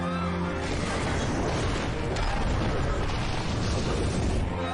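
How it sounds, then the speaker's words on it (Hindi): Devices detonate in a Hindi-dubbed Hollywood action film: a loud, sustained roar of explosions and crashing debris fills the whole stretch, dense and rumbling from start to finish. "सभी डिवाइस में विस्फोट हो गया है।"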